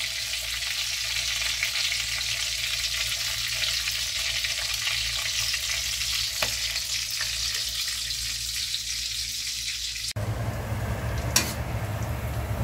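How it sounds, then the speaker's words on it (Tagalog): A second batch of food frying in hot oil, heard as a steady, close sizzling hiss that runs alone for about ten seconds before it stops abruptly and gives way to quieter background noise. "1 to 2 minutes ulit siguro ito na lulutuin hanggang sa medyo golden brown na siya"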